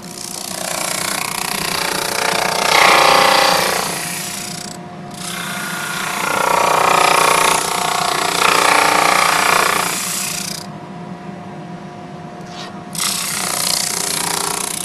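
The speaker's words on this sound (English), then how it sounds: "Drum sander is running, and it's got a belt that's going to feed the stuff through" A drum sander runs steadily with a loud, continuous grinding roar as wood pieces for a segmented bowl are fed through one at a time on its belt, the noise briefly dropping between pieces.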